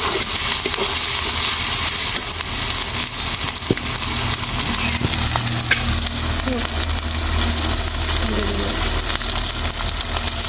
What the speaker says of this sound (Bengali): এখন দিয়ে দিচ্ছি আদা বাটা, দিয়ে দিচ্ছি জিরা বাটা দিয়ে সুন্দর করে আমি এখন কষাই নেব